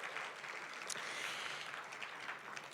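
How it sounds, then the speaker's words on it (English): An audience at a film screening and discussion on menopause gives a short round of applause, a faint, steady patter of clapping heard from a distance with no talking. "Let's give them a little round of applause."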